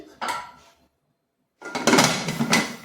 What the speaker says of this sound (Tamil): நல்லா கேக் டின் எடுத்து உள்ளே வச்சு